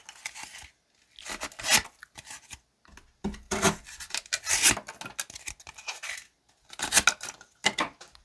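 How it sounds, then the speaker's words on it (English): A CJRB Bolt compact folding knife slices through cardboard in uneven bursts of rough scraping and tearing, close up, with short quiet pauses between the strokes. "And let's try to cut through some cardboard."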